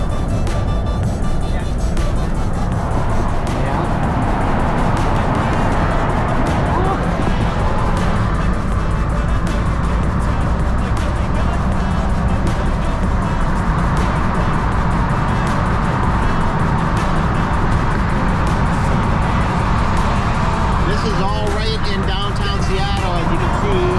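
Freeway traffic in downtown Seattle rumbles steadily around a moving car, a dense continuous roar of engines and tires heard from inside, with voices talking over it.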